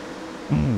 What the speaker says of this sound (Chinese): 不过如此突出的性能换来了却是这个噪音表现。